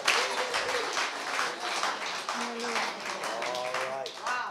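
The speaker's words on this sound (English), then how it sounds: "give the Lord a hand clap of praise" Church congregation clapping hands in praise during a worship service, a dense continuous patter of many hands with voices singing and calling out over it.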